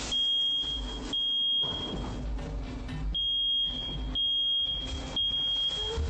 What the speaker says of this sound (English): the fire alarm finally starts sounding off